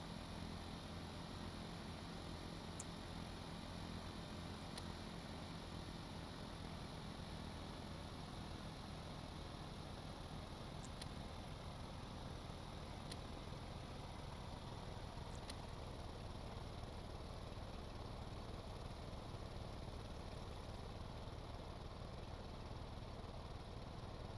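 A small four-cylinder plane engine in Stormworks drones steadily throughout, a constant broadband hum at even level with no talk and a few faint ticks.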